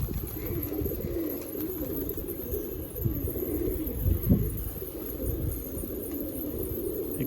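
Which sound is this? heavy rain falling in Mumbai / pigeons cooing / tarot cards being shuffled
pigeons cooing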